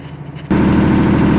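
A Perkins 30 kVA diesel generator engine rumbles under load, a loud, steady low drone that jumps sharply in level partway through and holds there.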